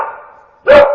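A dog barks once, loud and close, on a street at night, a single sharp burst after a fading tonal sound.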